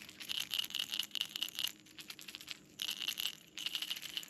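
Rapid rattling clicks of a pencil popper bass fishing lure come in bursts of about a second and a half, a bright, busy chatter that pauses briefly between sweeps, fairly close.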